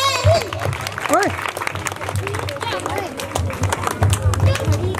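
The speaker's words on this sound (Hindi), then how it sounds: "एक बार माननीय श्री करमवीर फौजी जी के लिए जोरदार तालियां बजाकर उनका हौसला बढ़ाए" A crowd claps and applauds at a Bhagat Singh birth anniversary gathering held by a youth club for players and soldiers, with the steady applause mixed with voices and chatter.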